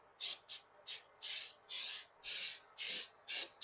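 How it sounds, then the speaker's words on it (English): A spray bottle spritzing liquid onto a car bumper during home painting prep, about nine quick, close hissing bursts, each roughly a quarter-second long, in an uneven rhythm with short silent gaps between them. "we're going to give this just a little bit of a spray down."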